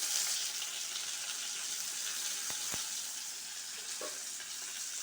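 Curry leaves frying in hot oil for a banana stem thoran give a steady, bright hiss throughout, with a couple of short clicks midway, close and even with no voices.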